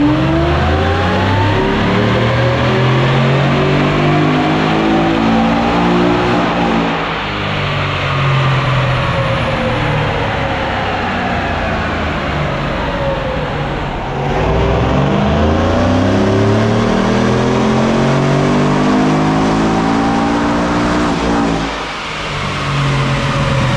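A car's engine revs hard on a dyno fitted with high-flow catalytic converters, loud and close, climbing through the gears in long sweeping pulls with brief lifts between them and no talking.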